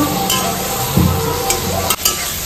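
Spice paste (masala) is stir-fried in a hot pan with a steady sizzle and occasional scraping strokes of a spatula, close and loud with no voices.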